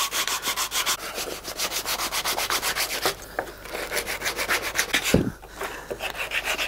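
Fine sandpaper rubbed back and forth over a handmade boxwood spoon, in fast, even strokes that sound close and scratchy, with a short pause and a brief knock near the end.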